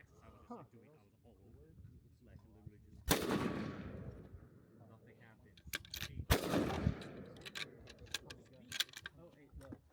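Rifle shots at a 600-yard shooting match ring out as two loud, sharp reports a few seconds apart, each trailing off in an echo, with smaller clicks and handling sounds scattered between them and someone talking throughout.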